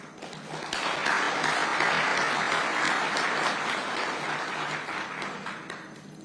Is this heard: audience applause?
yes